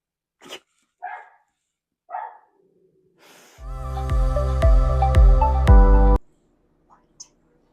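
Several dogs in a home sewing room give sharp, scattered barks, a few isolated yelps followed by a loud sustained burst of barking that stops abruptly, with quiet whispery sounds between.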